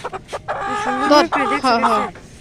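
A rooster clucks and crows loudly and close, a few short clucks leading into a longer, wavering call.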